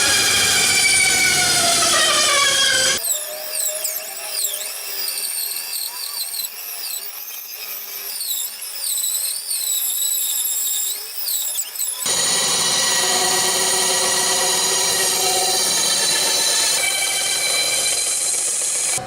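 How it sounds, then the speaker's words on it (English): A bandsaw cuts a pumpkin shape from padauk wood, starting with a steady close whine. A few seconds in the motor noise changes as the blade works through the wood, and the plain running sound returns near the end. No one talks. "Now we cut this shape out on the bandsaw."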